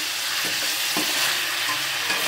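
Marinated chicken pieces sizzle and hiss steadily in a hot pan, with a few soft stirring knocks, close and continuous with no talk.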